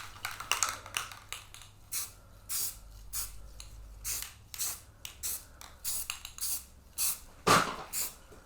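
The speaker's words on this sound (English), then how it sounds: "So I'm going to spray it on here, see how it goes." Rust-Oleum Ultra Cover flat black spray paint primer goes onto drum hardware in a string of short, close hissing bursts with brief gaps between sprays.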